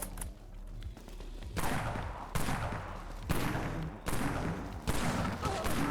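A Pierce shot gun fires in Dead Frontier, five loud, evenly spaced blasts about a second apart, each with a sharp attack and a decaying tail over a steady background hum.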